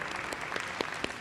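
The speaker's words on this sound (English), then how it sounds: "Please give them another round of applause for this amazing accomplishment." An audience at a high school signing day ceremony claps for a student's academic accomplishment. The applause is steady and somewhat distant, with a few sharper individual claps standing out.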